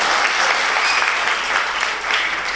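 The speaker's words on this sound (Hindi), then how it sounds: "एक बार मेरे सम्मान में भी तालियां बजाइए" Audience applause at a Hindi comedy show, a dense steady clapping that fills the room evenly from start to finish with no voices over it.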